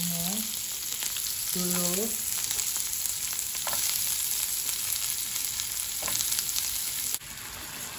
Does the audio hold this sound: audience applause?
no